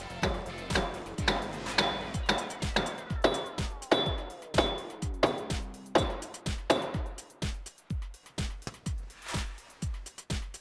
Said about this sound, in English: you might want to use a mallet just to get them into place